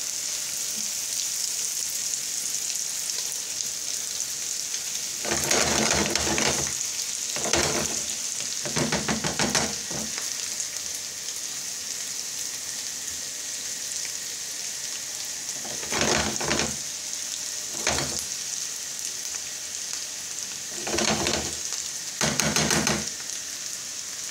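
Potatoes frying in butter in a pan give a steady bright sizzle, with louder bursts of crackling stirring and scraping that come and go every few seconds. No one talks.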